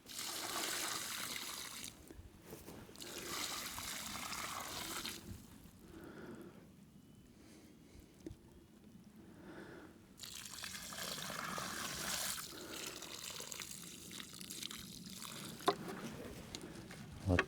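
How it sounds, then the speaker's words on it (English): Five gallons of water pour onto a newly planted bare-root apple tree outdoors in spring, a soft steady trickle and splash that fades and returns in stretches, with a person talking at times. "let's put 5 gallons of water on this"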